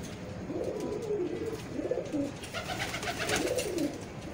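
A Teddy breeder pigeon in a Lahore loft gives a series of soft, rolling coos, several repeated calls over a quiet low background hum, fairly faint and with no talking.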